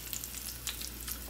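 Bacon fries in a pan, a quiet crackling sizzle with small scattered pops of splattering fat.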